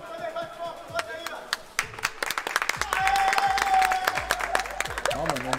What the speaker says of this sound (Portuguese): A torcida vai à loucura!